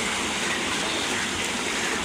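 Water gushes steadily while a bicycle is washed in a village, a continuous broadband rush with no breaks.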